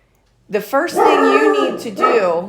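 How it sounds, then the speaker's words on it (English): A pet dog excitedly barks, yips and whimpers at a squirrel in the front yard, loud and close, while a person talks over the noise. "That was my dog freaking out over a squirrel in the front yard."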